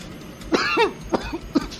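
A series of short, dry coughs close by, an initial double cough followed by two quicker single coughs.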